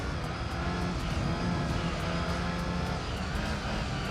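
A loud, continuous race car engine roar in the video game Gran Turismo 3 holds steady throughout, droning and high-revving without pause.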